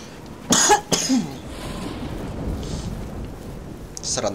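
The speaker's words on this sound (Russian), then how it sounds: "Сраный кашель." A man coughs twice in quick, close, harsh bursts, then a faint rumble of rain and thunder fills the pause before another short cough at the end.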